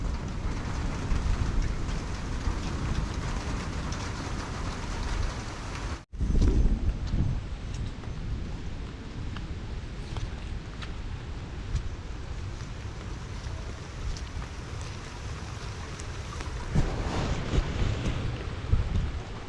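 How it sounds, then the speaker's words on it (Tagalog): Steady broadband rumble of typhoon rain and wind with low thunder-like swells, one brief dropout, and a stronger gust or roll near the end. "kumukulog at kumikidlat"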